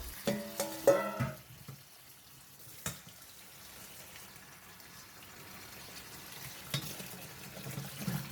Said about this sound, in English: Continue washing for around 5 times or until the water is slightly clear.